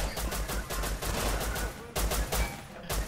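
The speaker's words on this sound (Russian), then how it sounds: "эти баррикады расстреливают, патроны сейчас закончатся" Rapid automatic gunfire in the video game Rust as players shoot at barricades during a 12 vs 12 base raid, dense repeated bursts filling the scene with brief gaps between volleys.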